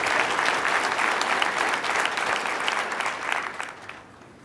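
A large keynote audience at a tech summit breaks into sustained, dense applause, loud and even before fading toward the end.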